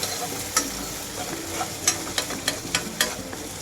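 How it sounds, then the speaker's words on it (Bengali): Chopped tomato and green chili being sautéed with brinjal in a pan: a steady close sizzle and frying hiss, broken by repeated sharp clinks and scrapes of a spatula stirring at an uneven rhythm. "এরপরে একে একে টমেটো কুচি কাঁচা লঙ্কা কুচি দিয়ে আরেকবার এভাবেই কষাবো"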